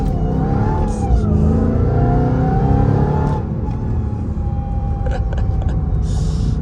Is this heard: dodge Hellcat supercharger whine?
yes